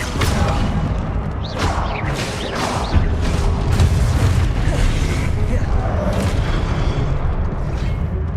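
Spell-casting blasts and booming magical impacts in a Hogwarts Legacy duel, loud and dense with repeated bursts layered over a constant roar of game effects, a voice calling out spells among them.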